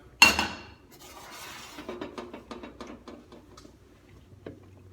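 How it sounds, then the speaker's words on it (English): Zucchini sautéing in a pan, heard as a sharp clatter of the pan at the start followed by a steady series of light metallic clinks and taps from stirring or tossing, close up with no talking. "I'm going to saute my zucchini now"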